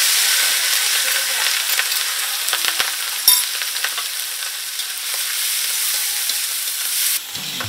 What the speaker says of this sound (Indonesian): semua bahan isian pun ditumis bersama hingga matang